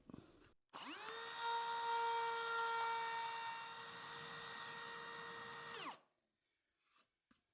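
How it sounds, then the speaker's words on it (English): A router with a flush cut bit trimming the edge of wood veneer in a woodworking shop, spinning up to a loud, steady whine that holds for about five seconds, dips slightly under load, then winds down. "It's all going to get cleaned out with a flush cut bit now."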